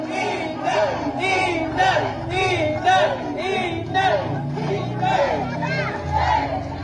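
A large political rally crowd in Davao City roars and chants in rhythmic waves, dense and loud throughout, with many overlapping voices shouting together.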